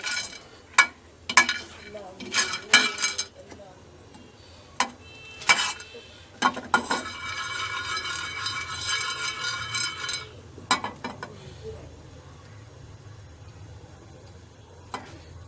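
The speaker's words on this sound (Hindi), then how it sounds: "सबसे पहले हम बादाम को रोस्ट करेंगे। थोड़ा सा हल्का सा रोस्ट करना है इनको।" Almonds dry-roasting in a pan while being stirred, heard as close scattered rattles, clinks and scrapes of nuts and spoon against metal, with a soft sizzling stretch in the middle and quieter pauses.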